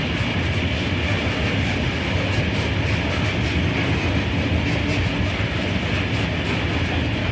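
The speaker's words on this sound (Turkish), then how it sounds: "Bu şekilde kömür trenimiz geçiyor arkadaşlar." A heavy coal freight train rumbles steadily past nearby, a continuous loud roar with faint rhythmic wheel clatter and no voices.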